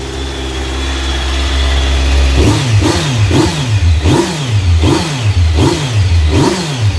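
A stock 2020 Kawasaki Z900 naked motorcycle engine idles low, then is blipped in a quick series of about eight sharp revs, each rising and falling steadily, close and loud with no talking.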